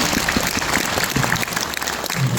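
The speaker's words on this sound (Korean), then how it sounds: "박수 한번 보내시면 감사하겠습니다." Steady applause from an audience in the Daejeon city hall auditorium, a dense wash of many hands clapping at moderate loudness throughout, with no voices over it.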